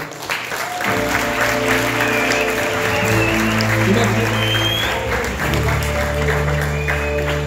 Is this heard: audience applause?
yes